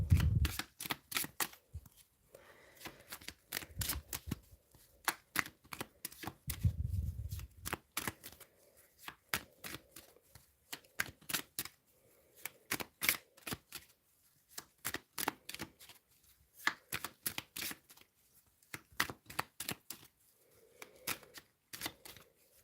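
Tarot cards being shuffled up close in a quiet room, bursts of crisp riffling clicks and flutters repeating in irregular runs with short pauses between.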